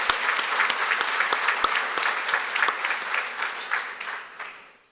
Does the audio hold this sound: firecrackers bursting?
no